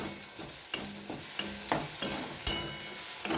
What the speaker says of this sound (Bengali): সব একসাথে ভালো করে ভেজে নেব যাতে আদা আর কাঁচা লঙ্কার গন্ধটা চলে যায়